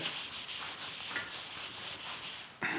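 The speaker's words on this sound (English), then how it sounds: "you take a clean rag, you soak it with alcohol, and you just go ahead and rub the section that's done" A rag soaked in alcohol rubs steadily over the surface of a 130-year-old wooden door, giving continuous close swishing strokes with no voices.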